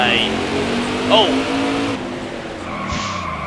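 A NASCAR race car in NASCAR Heat 4 skids with a sustained tire squeal over a steady engine drone, nearly spinning out, with a steadier engine pitch afterward. A commentator's voice runs underneath.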